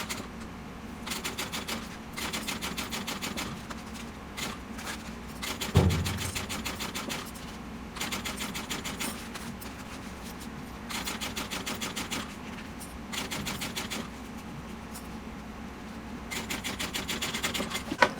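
A sewing machine stitching a handbag runs in repeated rapid bursts of mechanical chatter, stopping and starting several times with short pauses between runs, close and fairly loud with a thump midway.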